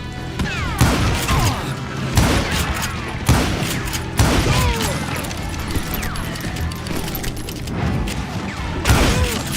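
Gunfire in the Western video game Call of Juarez: Gunslinger, a series of sharp, loud shots fired in irregular bursts with clattering mechanical noise and ricochets, and in-game voices briefly audible between the shots.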